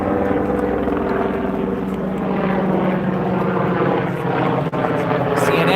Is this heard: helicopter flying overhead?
yes